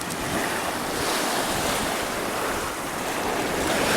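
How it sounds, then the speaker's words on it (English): Strong, cold wind buffets the microphone on the shore at Vermillion Point, mixed with steady surf washing in, a constant loud roar with no voices. "it's really cold and really windy"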